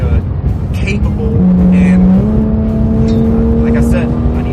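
An HG Performance Porsche 911 GT3 Street Cup being driven, its engine holding a loud, steady drone that steps up in pitch partway through, with a voice over the engine noise.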